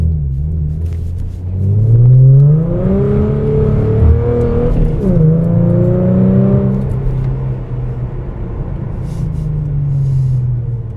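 A widebody Dodge Challenger with a 5.7 engine revs hard. Its deep rumbling note swings up and down in pitch through several throttle blips, with a few sharp exhaust pops, and no one speaks.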